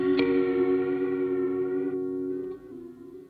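A Strymon NightSky pedal holds a sustained synth-like pad with pitch modulation, a bright attack at the start and a steady wavering shimmer that thins and fades near the end, loud and alone.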